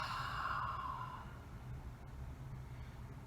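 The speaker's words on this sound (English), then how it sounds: "and exhale it all out." A long, soft exhale through the body during a yoga breathing exercise, close and breathy, fading away over about a second with no talking.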